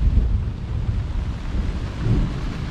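Thunderstorm at a lakeside campsite on the Apostle Islands, with rain and wind buffeting a camp awning as a dense, steady low rumble and rushing hiss, fairly loud and close, with no talking.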